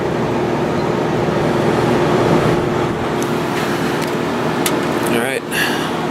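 An air conditioner unit runs with a steady mechanical drone and low hum, close by and fairly loud, with a few faint clicks and a brief dip near the end.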